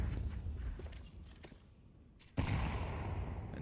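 Counter-Strike gunfire during a pro match near a church area. A few faint, scattered shots come first, then a sharp, loud report hits near the end and is followed by sustained noise.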